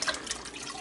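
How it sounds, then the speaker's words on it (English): A can of water pours into a pot of sauce cooking on a stove, a short soft splashing gush of liquid, close and fairly quiet, with no talking. "That's always the last thing I add,"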